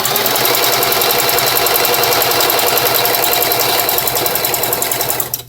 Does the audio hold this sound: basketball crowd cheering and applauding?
no